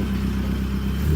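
A small, rowdy car engine, a 1998 Mitsubishi Lancer, idling with a loud, steady low rumble throughout this brief moment.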